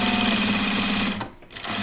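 A sewing machine stitches through layers of silicone oven mitt fabric in a loud, close, rapid mechanical rattle that stops briefly near the end, then starts again, with no talking.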